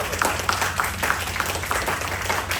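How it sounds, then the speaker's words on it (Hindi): An audience claps in a loose, steady patter of hand claps at moderate distance, without speech, for a few seconds. "जब भी मौका मिले ताली बजाने के ना, खूब बजाओ, खूब बजाओ, खूब बजाओ"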